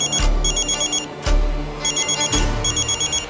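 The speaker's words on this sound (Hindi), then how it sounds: "उनका फोन आ रहा है" A telephone rings with an incoming call, a loud electronic trill repeating in regular pulsed bursts, with a low hum underneath.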